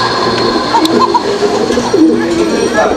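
A pair of white Arabian koka pigeons at a fancy pigeon farm coo in soft, repeated low phrases, close by, under steady background noise.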